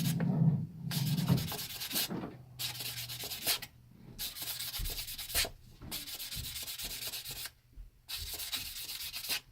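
Sandpaper rubbed by hand over a Kawasaki KV75 motorcycle clutch part: five rhythmic, close scratchy sanding strokes, each about a second long, separated by brief pauses, with no talking.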